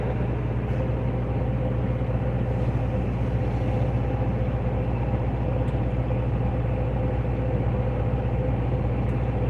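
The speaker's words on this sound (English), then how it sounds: "I drive a semi truck with a trailer, and right now it's being unloaded." A semi truck with its trailer idles while being unloaded, a steady low engine drone and rumble running unbroken and fairly close throughout.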